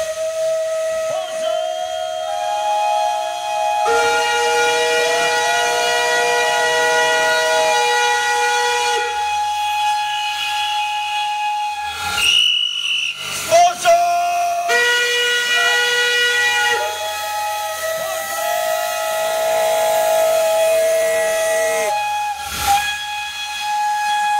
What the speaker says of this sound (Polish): A tutaj wraca do nas pociąg.